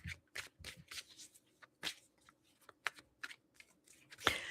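Tarot cards are shuffled by hand in irregular bursts of crisp riffling and tapping, close and fairly quiet, with a louder flurry at the end.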